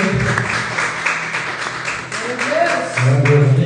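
A church congregation applauds during an evangelical service, with steady clapping under a voice and low sustained music or murmuring that swells near the end.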